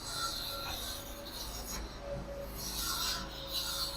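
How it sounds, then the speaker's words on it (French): Wall tiles being broken off by hand without jackhammers during renovation of tired walls: continuous scraping and rasping that grinds on steadily, fairly loud and close, with no talk. "Ici, on est en train de casser les carreaux."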